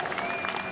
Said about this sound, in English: Listen to the applause.